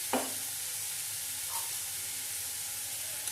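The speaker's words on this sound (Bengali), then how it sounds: "এবার এর মধ্যে দেবো একটু জিরে গুঁড়ো" Karela (bitter gourd) curry sizzles steadily in a pan as cumin powder is added, a faint continuous frying hiss with a couple of soft stirring scrapes and taps.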